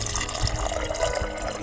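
Water overflowing and pouring continuously near a lightweight backcountry campsite, a close, steady gush and splash with no break.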